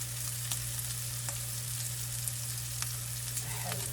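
Sausage, peppers and onions frying in a pan, giving a steady, fairly quiet sizzle with small crackling pops over a constant low hum.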